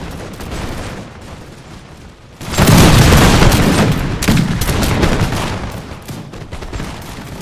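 Musket volleys crackle in a strategy game battle of the American Revolution, a loud, dense roll of gunfire that swells sharply partway through and keeps rumbling on.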